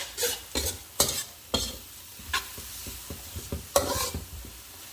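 Pork stomach stir-fries with garlic and pickled mustard greens in a hot pan, a steady sizzle broken by repeated scraping strokes of a spatula, close and fairly loud.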